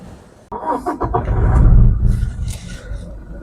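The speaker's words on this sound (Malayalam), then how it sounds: "അപ്പോൾ ഇനി നമുക്ക് ഈ വാഹനം സ്റ്റാർട്ട് ചെയ്തതിൻ്റെ സൗണ്ട് ഒന്ന് കേൾക്കാവുന്നതാണ്" The 2.4-litre engine of a Toyota Innova Crysta turns over and catches, then settles into a smooth, low, steady idle rumble heard up close.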